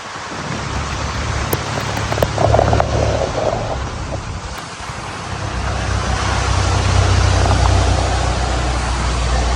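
Steady heavy rain drums around a moving Mahindra Willys 4x4 jeep from 1995 on a flooded road, a broad continuous wash with a low vehicle rumble beneath and occasional sharper drops, loud and close throughout.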